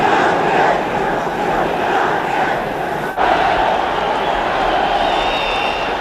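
Chelsea's biggest crowd of the season roaring in the stadium before kickoff against Manchester United in 1970, a loud, dense and steady wash of cheering and chanting that runs throughout.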